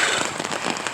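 Steady rain pours down during an outdoor jog, a dense, continuous patter on surfaces close by, with no voices.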